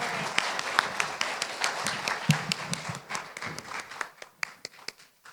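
Scattered applause from an audience at an association launch ceremony, many hands clapping in a broad crackling wash that thins out toward the end, leaving a few individual claps.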